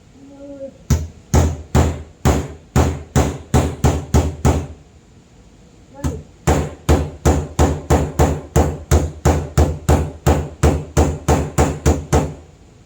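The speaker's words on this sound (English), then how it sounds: "Just I like this little hammer for some reason." A small body hammer taps metal fender flares on a 2006 Mazda Speed 6, a quick run of sharp, evenly spaced strikes, a short pause, then a longer steady series of loud close blows.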